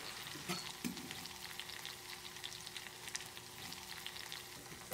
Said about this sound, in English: So now our shallots are getting nice and brown in there